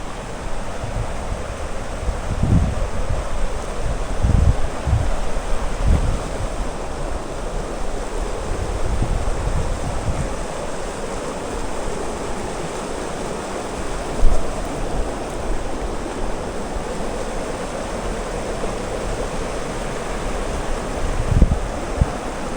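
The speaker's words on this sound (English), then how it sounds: "Beautiful mountain stream." Continuous rushing water from a mountain stream in the Colorado Rockies near Boulder, with a low rumble and gusts of wind against the microphone, steady throughout with no voices.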